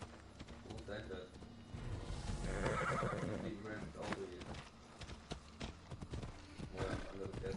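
A horse neighs over the clatter of galloping hooves amid busy game sound effects and music, with voices talking in the background.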